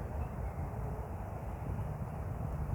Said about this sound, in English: There's an airplane there.